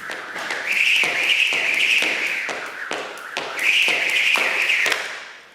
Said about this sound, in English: you can hear a very distinct difference when that rope is passing one time versus 2 times